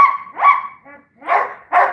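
A dog gives several sharp barks in quick succession, close and loud, with short gaps between them.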